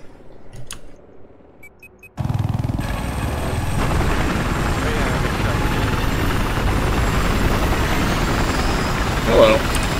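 A helicopter in the video game Battlefield 4 whirs loudly and steadily after a short stretch of game noise, its rotor chop filling the scene while players talk over it.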